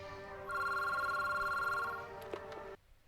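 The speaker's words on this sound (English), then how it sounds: "Is that the house phone?" A house telephone rings once with a sustained electronic trill lasting about a second and a half, fairly faint, followed by a brief click and background noise.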